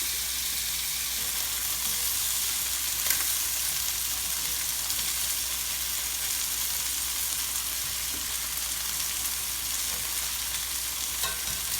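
Chicken pieces browning in a pan for harissa chicken, giving a steady, even sizzle of frying that holds at a constant level throughout, close by and with no talk.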